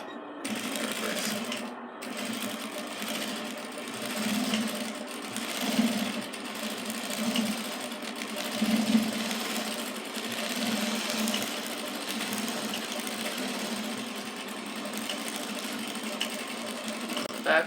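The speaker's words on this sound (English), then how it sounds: "And that is with a sewing machine." A sewing machine stitching back and forth across a broken button closure on pants, a steady close motor whir with rapid needle chatter that runs continuously, briefly stopping near the start as it reverses.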